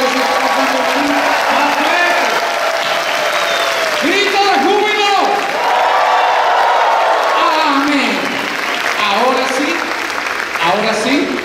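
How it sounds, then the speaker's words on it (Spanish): Broad applause from a crowd at a Pentecostal church service continues steadily, mixed with cheering voices and sung or shouted tones rising over it. "Ahora le vamos a regalar un aplauso, un mega aplauso"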